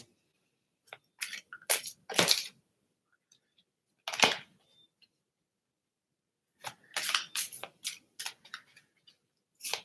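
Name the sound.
shuffling a deck of message cards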